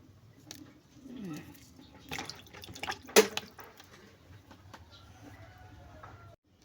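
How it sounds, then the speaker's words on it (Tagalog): Water is poured into a cooking pot while making kinamatisang gurguramis, heard as close splashing and dripping bursts with a sharp clatter partway through, fairly quiet overall. "lagyan natin ng tubig guys para kumulo"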